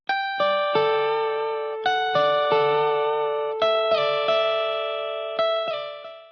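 MIDI electric guitar notes played through an amp simulator, clean sustained tones struck one after another and ringing out, with no talking.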